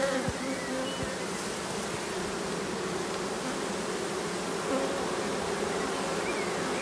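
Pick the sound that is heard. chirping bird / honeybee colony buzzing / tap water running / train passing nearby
honeybee colony buzzing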